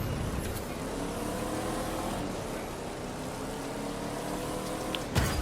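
Car engines roar in a Demolition Derby race on dirt in the video game The Crew 2, a steady loud motor drone that holds throughout and ends with a sharp thump.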